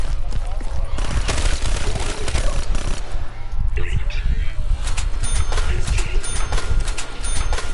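SMG fire in Black Ops 3 zombies mode, a steady run of rapid shots throughout with heavy low thumps, someone talking over it.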